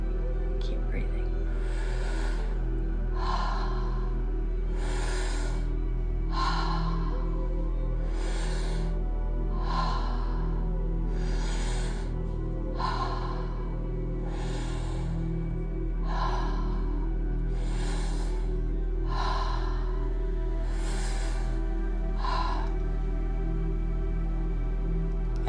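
Deep, rhythmic breathing during a guided breathwork exercise, roughly a dozen long audible breaths repeating steadily over a constant low drone of background music.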